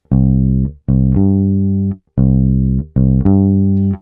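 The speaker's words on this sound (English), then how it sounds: "And this creates our foundational country bass shape" Bass guitar playing a root-fifth country bass line on C, deep plucked notes alternating in a steady bouncing pattern, each note ringing clearly and loud with no talking.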